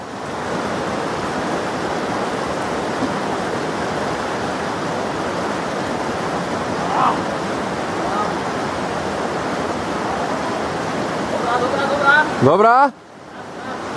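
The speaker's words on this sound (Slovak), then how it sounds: "ďalší kus prebrodiť." People wade across the Soča river, where loud, close, rushing water fills the whole stretch without a break, and a voice briefly speaks near the end.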